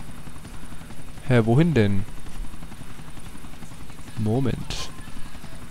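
Helicopter rotor and engine drone in the video game The Ballad of Gay Tony, a steady mechanical whir running the whole time beneath a man's brief spoken remarks.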